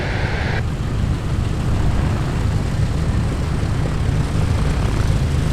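A propeller airplane arriving at EAA AirVenture Oshkosh 2019 makes a loud, steady engine and propeller drone that runs unbroken and close throughout.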